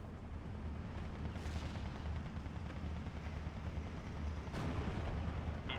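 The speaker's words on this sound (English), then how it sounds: "see the artillery still going off right over my mouse pointer" Rumbling artillery fire from the Steel Division 2 wargame rolls on steadily at a distance, with a couple of sharper booms rising above the low, continuous din.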